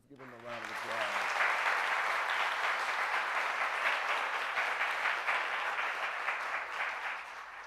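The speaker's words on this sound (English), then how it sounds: "And so, Ron Link, please, let's give him a round of applause" Sustained audience applause at a New York City school design exhibition, rising quickly after a brief voice and holding steady and dense for several seconds.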